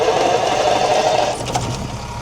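An AEC Marshall 8 wheeler truck engine, jump started off a 24 volt loader, cranks with a dense, rapid mechanical chugging and whirring that drops slightly in the last second, loud and close.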